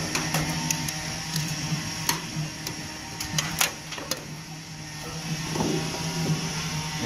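Glass being scored and snapped for a stained-glass piece: a steady, close scratching hum with several sharp, distinct clicks and snaps scattered through it, no talking.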